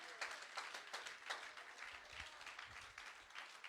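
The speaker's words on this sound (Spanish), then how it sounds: "Denles ofrenda de palmas" A church congregation applauding together during a sermon, a steady patter of many hands clapping at a moderate distance, fairly faint and even throughout.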